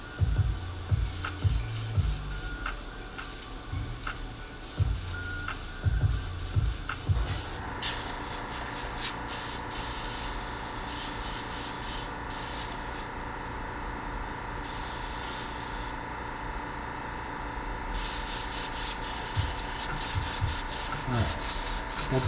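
An airbrush spraying paint over a 3D printed Scorpion mask: a steady airy hiss that runs throughout, broken by short gaps where the trigger is released, with some light rubbing and handling noise early on.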